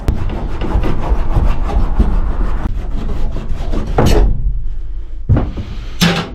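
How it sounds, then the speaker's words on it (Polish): Hand shears cutting sheet metal from a camper van body, a loud, close, continuous grinding rasp with a few sharp squeaks and snips near the end. "Jak wygląda cięcie tymi nożycami."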